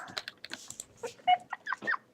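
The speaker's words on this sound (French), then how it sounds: "je vais tuer les poulets, Robin" Video game chickens cluck and squawk in short, scattered bursts, several calls close together, fairly near and clear with nothing else around them.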